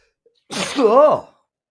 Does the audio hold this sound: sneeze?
yes